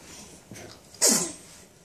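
A single sharp sneeze bursts out close by after a faint intake of breath, loud and brief against a quiet room at breakfast.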